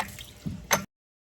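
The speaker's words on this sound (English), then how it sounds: "I'm gonna go ahead and drain the bowl" Fuel draining from the carburetor float bowl of an outboard motor on a jon boat, with water contaminating the gas; a few brief close liquid splats and drips, the last one sharper, then silence.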